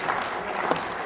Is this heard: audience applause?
yes